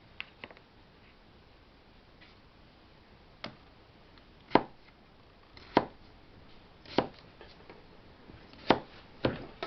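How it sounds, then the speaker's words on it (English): Knife chopping through potatoes on a board, a series of about eight sharp, irregularly spaced cuts close by, growing louder toward the end, with no talking. "She likes cutting taters."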